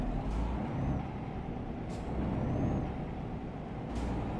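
A truck in Euro Truck Simulator 2 pulls away from a traffic light with a deep, loud, steady diesel drone, while three short hissing bursts cut through at intervals.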